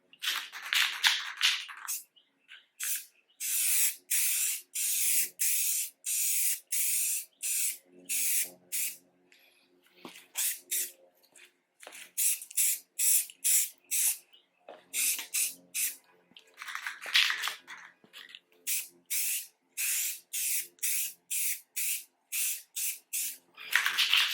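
Short repeated bursts of an aerosol spray as a coat of plastic restorer goes onto faded car trim, a steady run of close hissing puffs with brief gaps, no talking.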